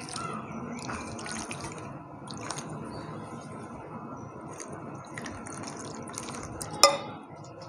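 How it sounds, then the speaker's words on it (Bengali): Poppy seeds being rinsed in water by hand in a kitchen: soft, close squishing and dripping with gentle sloshes, fairly quiet and steady, ending in one brief louder splash. "একটু জল দিয়ে ভালো ধুয়ে নেবো।"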